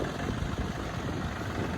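A Yanmar 39 hp farm tractor engine idles in Kham Thale So, Nakhon Ratchasima, giving a steady, even rumble with no voices.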